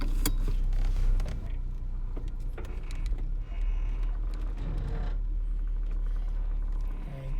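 A warmed-up car engine idles steadily with a deep, constant rumble heard from inside the vehicle, alongside faint mechanical clicks and shifting noises, with no talking.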